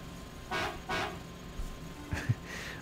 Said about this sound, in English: My character is honking his horn.